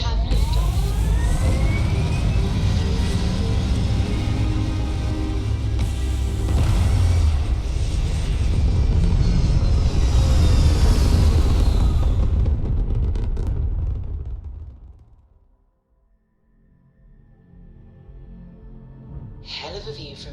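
A spaceship lifts off in Starfield with a loud, deep rumbling roar that builds and holds for a long stretch, then fades away to near silence before a short hiss returns at the end.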